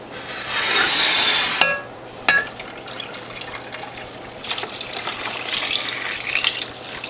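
Watermelon juice is poured and mixed into bottles: a strong liquid rush for about a second and a half, then a few clinks and intermittent trickling and splashing, moderately close.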